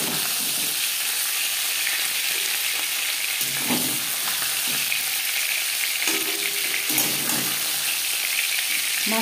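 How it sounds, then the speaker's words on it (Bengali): Fish head frying in hot oil in a pan, cooked for masoor dal, giving a steady loud sizzle with a few stirring scrapes and bursts of spattering, with no talk. "মাছের মাথা ভাজা হয়ে গেছে।"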